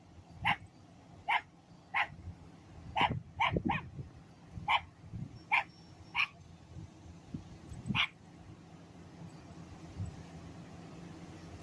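A small Chihuahua gives a run of sharp, high yaps, some single and some in quick pairs, spread across the stretch at moderate distance over a low background rumble with a car passing faintly.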